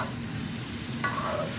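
Dried kachki fish frying in a pan and being stirred, a steady soft sizzle with scraping strokes and a brief sharper clink near the end, close and alone.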